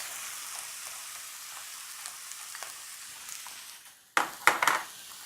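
Garlic, soy sauce and hoisin sauce go into a frying pan of translucent vegetables, bringing a steady soft sizzle and then a few sharp, brief crackling bursts of louder frying near the end.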